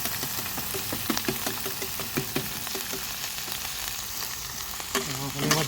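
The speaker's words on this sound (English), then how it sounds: "Not to mention we're cooking it in bacon grease." Pork chorizo sizzles and crackles in bacon grease, a dense continuous frying hiss with frequent small pops and occasional scraping stirs, close and fairly loud, without talk.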